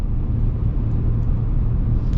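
Steady low rumble of wind and road noise inside the cab of a 2026 Ford F-150 XL work truck with single-pane glass, a loud continuous broadband drone with no voices.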